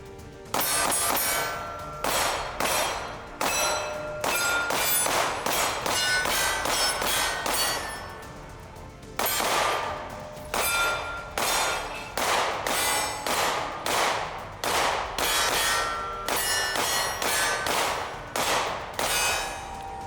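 A Glock 43X pistol that has been buried fires magazine after magazine in quick, sharp, loud shots. A short pause comes partway through, then the steady rapid shooting resumes.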